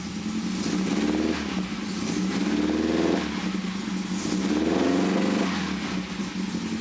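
A Volvo 140 engine idles steadily, its low rumble pulsing in a slow rhythmic throb under a constant hum, continuous and close throughout.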